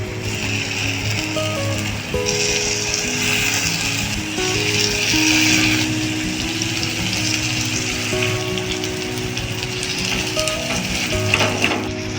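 Steady, loud sizzling of food frying in hot oil, with a constant crackling hiss and some faint clicking, no voices.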